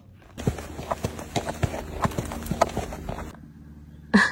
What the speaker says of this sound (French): il y a des chevaux devant, là-bas